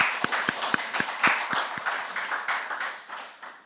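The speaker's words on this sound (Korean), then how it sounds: "청년들 위해서 격려와 축복 박수 부탁드립니다" A church congregation applauds, starting with quick, evenly spaced claps that blur into a dense patter of hands, then gradually fade.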